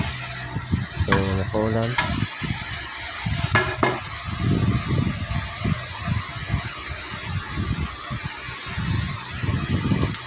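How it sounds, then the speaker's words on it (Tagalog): Cabbage sautéing with scrambled egg and oyster sauce in a pan, stirred with repeated scraping strokes over a steady sizzle, while someone talks at the start. "Halo-haloin na natin ulit."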